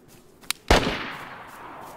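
Gunshots in the video game DayZ: a faint sharp crack followed by one loud close shot with a long decaying echo.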